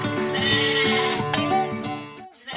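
A cartoon goat bleats in a quavering, wavering cry over light background music. Several wobbling calls follow one another for about two seconds, then the sound cuts off abruptly. No one speaks.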